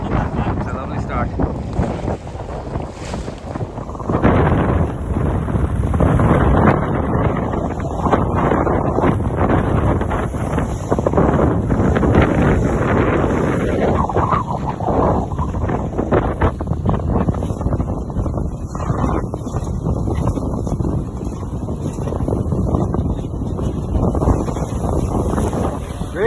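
Sailing yacht crossing the start line of the Round Ireland Race at sea: heavy wind buffeting the microphone with rushing water and hull noise, loud and continuous after a quieter opening, with people talking and cheering underneath.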